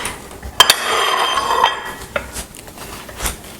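A ceramic plate clinks and rattles against a kitchen surface during French toast cooking, one sharp clatter followed by a ringing tail and a few lighter knocks, close and loud, with no talk.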